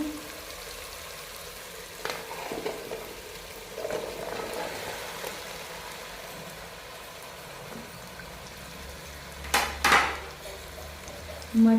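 Potatoes going into a pan of gravy for a restaurant-style mixed vegetable dish, with a soft, steady frying sizzle, a few quiet stirring scrapes, and a louder clatter of utensils near the end.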